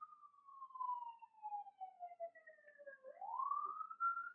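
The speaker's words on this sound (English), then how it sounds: "Sirens, sorry. Welcome to LA." Faint emergency siren outdoors in Los Angeles, a single distant wail gliding slowly down in pitch and then sweeping back up, heard from indoors at low volume.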